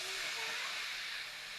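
Lote fish, also called Bombay duck, hits hot fried spices in a kadai with a soft, continuous hiss that tapers slightly toward the end, fairly quiet and close, with no voices.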